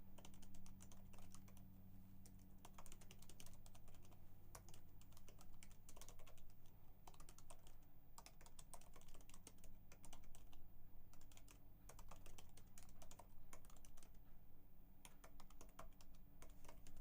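Steady, close keyboard typing at a computer, continuous clicking keystrokes for the full length with no voices, over a low electrical hum.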